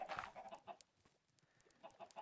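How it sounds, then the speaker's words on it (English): Chickens in the Minecraft video game cluck in short repeated bursts, several calls scattered across the moment with brief quiet gaps between them, fairly close and with no talking over them. "Get out of the way, chickens."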